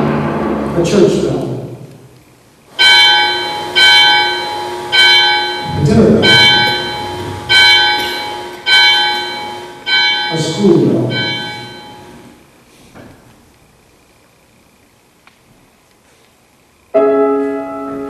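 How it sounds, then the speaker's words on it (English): A church bell rings out in repeated strong strikes with long ringing overtones, about eight tolls at a steady pace, fading to quiet near the end before one more struck tone. "A church bell."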